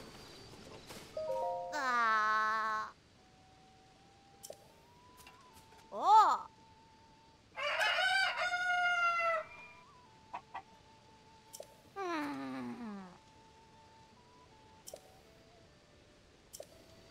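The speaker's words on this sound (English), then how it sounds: "Literally about to talk to a chicken." A chicken in the video game Zelda Tears of the Kingdom gives short bursts of clucks and a crowing call, spaced apart across a quiet stretch with a soft tonal game hum and small clicks between them.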